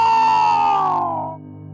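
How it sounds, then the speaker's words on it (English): The Pyro's death scream from Team Fortress 2, a loud, piercing, tonal cry that slides downward in pitch and cuts off after about a second. "It sounded a lot like the Pyro's death scream."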